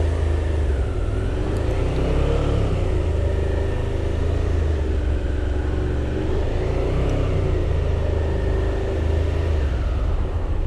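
A motorcycle engine runs steadily at low speed during slow-speed riding practice, a loud continuous rumble with slight rises and dips in revs, close by with no talking.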